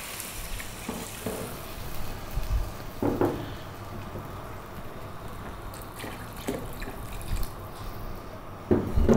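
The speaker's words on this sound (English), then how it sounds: "we're now going to add water," Water splashes into a pot of frying carrots in several short pours over a faint background sizzle.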